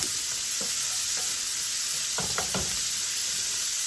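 Onion and celery sautéing in a pan as the base for cottage pie, a constant bright sizzle up close with a few soft utensil taps and stirring knocks, no talking.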